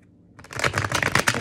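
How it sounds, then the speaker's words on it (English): Tarot cards are riffled and shuffled in a quick, close flurry of papery flicks that starts after a brief quiet moment. "I'm gonna shuffle this one as well."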